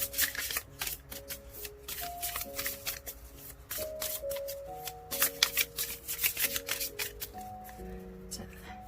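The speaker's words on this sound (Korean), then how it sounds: "좋은 카드 추가 카드 뽑아볼게요" Tarot cards being shuffled and drawn by hand, a rapid run of crisp papery riffles and flicks close up, with a person talking quietly underneath.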